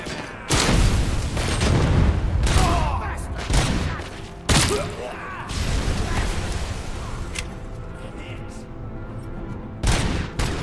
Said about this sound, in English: Oh boy, that's a grenade.